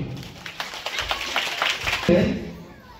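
An audience at a school twinning program claps to welcome guests, a brief scattered burst of hand claps that builds and fades, mixed with nearby talking.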